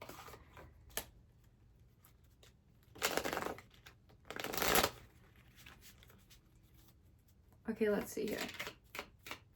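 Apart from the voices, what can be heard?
shuffling tarot cards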